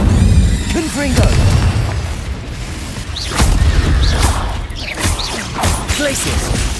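Spell blasts from the wizarding game Hogwarts Legacy, a string of loud booming explosions and crashes with whooshes, spaced a second or so apart, with someone speaking over them.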